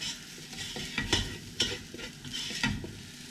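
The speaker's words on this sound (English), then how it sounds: "Give that a mix so it's all together." Sweet potato chilli is stirred in a sizzling pan, quiet rhythmic scrapes of a spoon repeating about once a second over a soft, steady frying hiss, close by with no talking.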